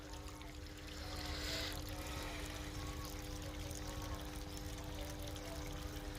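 Water from a newly drilled borewell runs steadily into a wheat field, a continuous pouring, trickling rush over a constant low pump hum, close and even throughout with no talk.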